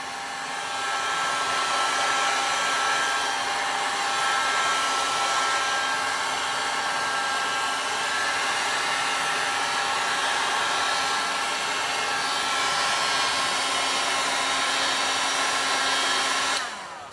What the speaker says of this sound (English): I'm just getting a bit of hot air up into that hole that I drilled just to dry it all out